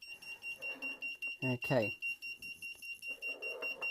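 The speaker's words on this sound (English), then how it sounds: "I'm going to reconnect my alarm so that we can see that it's all working" Reconnected room alarm gadget emits a steady high-pitched electronic tone throughout, with a short burst of speech partway through and soft rustling handling noise around it.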